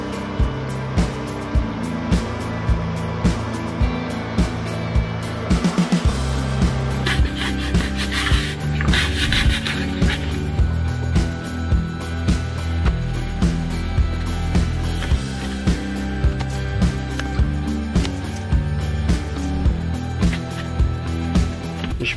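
Sandpaper rubs along the leading edge of a Depron foam model biplane wing in steady, repeated strokes over a continuous tonal background.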